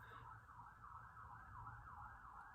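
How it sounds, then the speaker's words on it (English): A distant wailing siren rises and falls steadily over a low traffic hum, faint and continuous. "Sorry, there's a siren outside."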